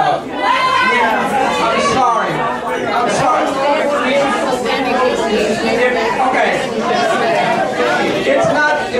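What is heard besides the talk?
crowd chatter at a zoning meeting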